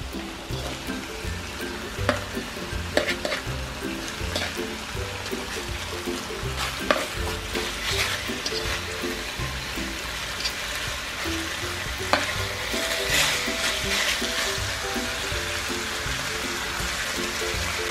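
Large chunks of pork fry over low heat in a pan, a continuous close sizzle with occasional scraping stirs and clinks, no voices.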